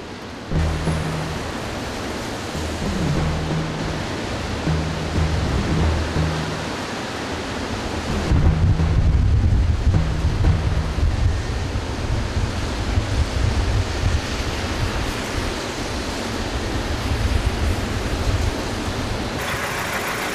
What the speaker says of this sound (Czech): Tohle už je pohled na rozbouřenou Vltavu v Praze